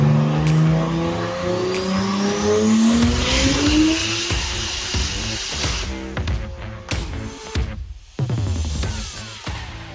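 A 2JZ-swapped Mazda RX-8 revs hard through rising gears with a climbing engine whine, then gives sharp, crackling bursts and quick throttle blips up close.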